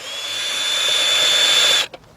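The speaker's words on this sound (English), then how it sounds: "get my cordless drill with my socket adapter hooked onto it" Cordless drill fitted with a socket adapter and 3/8-drive 10mm socket spinning out bolts on a BMW oil filter housing, one steady high whine for nearly two seconds, then a brief stop.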